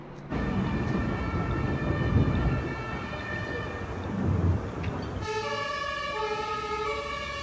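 A loud, continuous German ambulance siren wails nearby with steady warbling tones, backed by rumbling traffic noise in Berlin, with no talking.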